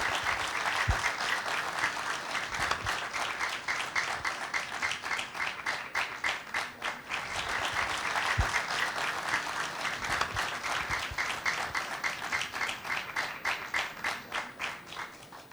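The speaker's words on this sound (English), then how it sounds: "let's give them a big round of applause" An audience claps through the sacred lamp lighting that opens a carnival showcase, a dense and continuous round of applause that swells and holds for the whole stretch with no speech over it.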